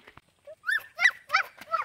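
A dog gives a quick run of four sharp, high yips and barks at close range, each one short and evenly spaced, with a few faint clicks before them.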